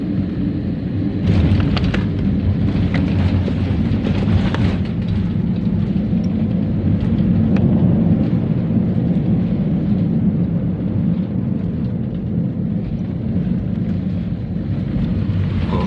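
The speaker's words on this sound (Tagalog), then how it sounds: "Very smooth touchdown." Airliner touchdown and landing roll at Zamboanga airport, heard from inside the cabin as a steady loud low roar of engine and rolling noise filling the whole stretch, with no talk.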